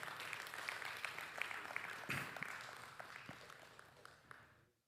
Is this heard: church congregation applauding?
yes